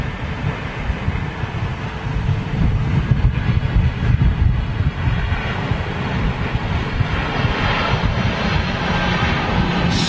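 A United Boeing 767-400 jet at London Heathrow Airport rumbles as a low, steady roar of engines, heard from a distance with some wind buffeting and no talk during the pass.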